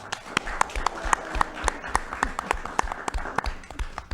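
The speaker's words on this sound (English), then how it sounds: "So please give our panelists and yourselves a round of applause" Studio audience applauding a film faculty panel at the close of a Q&A, a thin, sparse patter of individual claps rather than a full ovation, fairly steady across the stretch.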